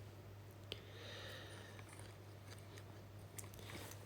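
Quiet crunchy bites and chewing on a dry Vietnamese shrimp roll snack, close up with soft crackles and a couple of sharper crunches over a steady low hum, no talking.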